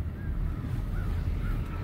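A few crows cawing at a distance over steady low rumbling background noise, calls spaced out across the moment.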